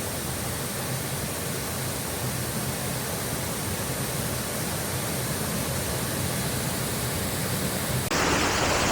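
A waterfall in South Wales roars up close, a loud unbroken wash of falling water that holds steady throughout with no voices over it.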